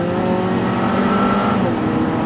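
Car with about 170 to 180 horsepower accelerating to overtake other vehicles, a steady loud engine drone rising in pitch midway, heard from inside at close range with no talk.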